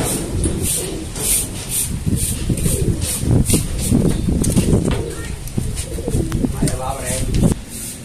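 Pigeons coo repeatedly in a busy Quiapo street scene, their calls mixed with crowd noise, nearby voices and occasional hoof-like clip-clop in the background.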